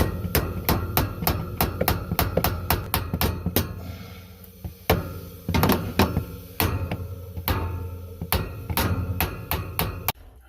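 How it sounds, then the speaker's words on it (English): A hammer drives shelf supports into place beneath an existing shelf in a home renovation, with rapid bursts of sharp, close strikes broken by short pauses and a few irregular blows. "he's going to hammer it in."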